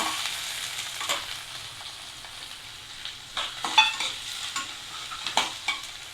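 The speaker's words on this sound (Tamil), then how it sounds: "வெங்காயம் நல்லா வதங்கிடுச்சு" Sliced onions frying with mustard seeds, urad dal, chana dal and dried red chillies for a potato poriyal make a continuous close sizzle, broken by irregular stirring scrapes and clinks of a spoon on the pan, with no one speaking.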